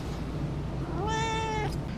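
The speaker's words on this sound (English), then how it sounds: "the cat was yelling at me the whole time" A house cat lets out a single drawn-out meow about a second long, close and clear over a steady low background hum, in a room where band T-shirts are being screen printed.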